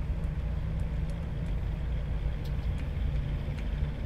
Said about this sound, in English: God, this car fucking sucks.